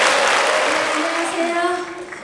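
Audience applause at a Mokpo municipal Korean traditional music concert, a loud, dense clapping wash that fades slightly, with a voice speaking over it.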